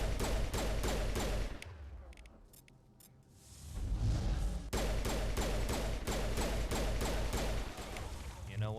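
Rapid bursts of automatic gunfire in Mass Effect as shots hit sacks, loud and close, with a short lull midway before the sustained fire resumes.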